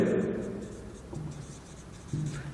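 Pen or chalk scratches in short strokes during a sixth-grade maths lesson on ratio and proportion, with a teacher talking over the writing.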